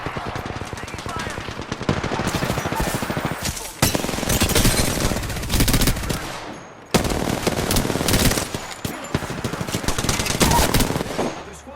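Dense automatic gunfire in the video game Apex Legends on PS4 crackles in loud, rapid bursts nearly throughout, broken by brief pauses, with in-game voice lines heard over the shooting.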